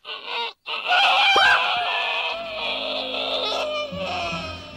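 A duck honks repeatedly in a farmyard in the 1995 film Babe, a run of loud, nasal calls close by, with a brief pause near the start, then continuous clucking and squawking from other fowl behind.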